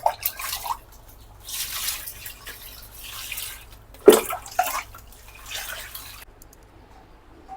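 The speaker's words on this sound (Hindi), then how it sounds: "फिर भी धो लेते हैं अच्छे से पानी से" Freshly picked pumpkin leaves are rinsed with water by hand, with a few splashing, trickling bursts and a sharper clatter midway, fairly close and moderately loud.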